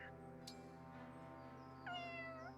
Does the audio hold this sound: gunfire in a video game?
no